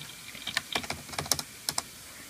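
Someone types a phone number on a computer keyboard to dial up a ZOOM 56k external serial modem, a quick run of about a dozen crisp, close key clicks in an uneven rhythm, with no voices.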